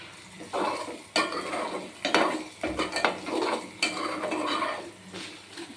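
Coriander and asafoetida tempering fry in hot oil for semiya daddojanam, a loud crackling sizzle broken by repeated metal spoon scrapes and clinks against the pan, with no voices.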